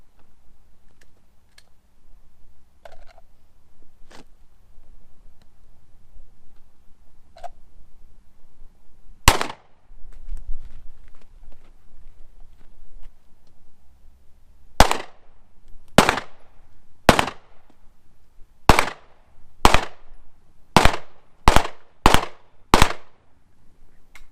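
Glock 19 gen5 MOS pistol fired at a target: a single loud shot, then after a pause a rapid string of about ten sharp, evenly spaced shots, with faint clicks and handling noise between.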